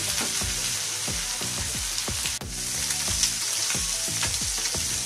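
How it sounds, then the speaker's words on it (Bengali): Small pieces of rohu fish sizzle with spices and onions in a pan, a constant close frying crackle broken by regular scraping strokes of stirring. "এভাবে আমি আরো কিছুক্ষণ ভাজবো একদম লাল লাল করে"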